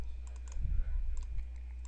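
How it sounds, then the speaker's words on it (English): Several quick computer mouse clicks tap out in small clusters over a low hum, close and light, while someone right-clicks through content in scheduling software. "I got there by right clicking each piece of content"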